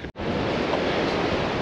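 Storm-driven waves pound the Lake Erie shore at Point Abino in a steady, roaring wash, loud and close, with wind buffeting the microphone after a brief moment of near silence at the start.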